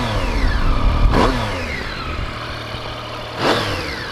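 A 2014 Triumph Street Triple motorcycle engine is revved twice to about 4,000 RPM, each blip climbing sharply and falling back to a low idle between them, close and loud with no talking.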